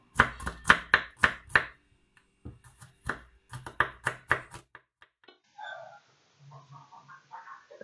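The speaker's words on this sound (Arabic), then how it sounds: "كناخدو الثومه يا اما كنحكوها اولا كنقطعوها الى قطع صغيره" A knife chopping garlic into small pieces on a board, a close run of quick, sharp, rhythmic taps in bursts, then quieter handling sounds.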